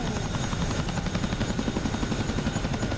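Chinook tandem-rotor helicopter flying sideways in the DCS combat flight simulator, its steady rhythmic rotor chop thudding loud and continuous throughout.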